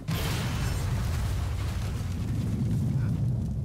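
A bus blows up in Assassin's Creed Syndicate, a huge sustained roaring blast that hits at once and keeps rumbling loudly with a deep low-end boom for several seconds, no talk over it.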